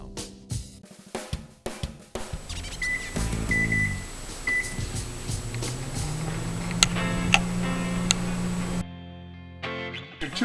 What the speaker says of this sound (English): put it in the microwave for 2 minutes, it is so much easier to cut in half